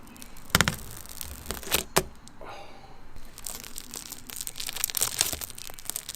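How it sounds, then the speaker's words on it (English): Protective plastic film peels off a new OLED taillight on a BMW F30, giving loud, close crinkling and tearing crackles in bursts, with a short smooth ripping stretch in the middle. "Here's some satisfying plastic peeling."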